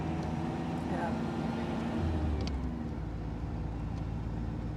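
A 1975 MGB Anniversary Edition driving on the road, with a steady low engine and road rumble heard from inside the car while people talk over it.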